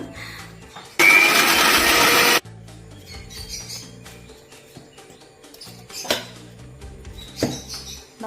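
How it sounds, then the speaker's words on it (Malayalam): Mixer grinder whirring loudly as it grinds bread into crumbs, one burst of about a second and a half, followed by quieter kitchen clatter and small clicks. "നമ്മൾ ബ്രെഡ് ഒന്ന് പൊടിച്ചെടുക്കുക കേട്ടോ"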